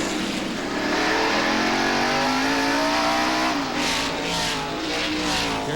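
NASCAR stock cars racing on the Sears Point road course in 1992, a loud continuous engine roar that swells and shifts in pitch as the cars pass close by in a line, with no voices over it.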